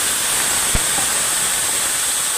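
Bottle gourd sizzles in oil in a kadai, a loud steady broadband hiss that holds throughout with one small pop near the start.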